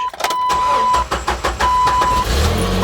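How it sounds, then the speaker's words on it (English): A Jeep Wrangler engine with manual clutch cranks with a rapid churning rhythm, starting a little hard, then catches and runs with a loud, close rumble. "Let's start the car."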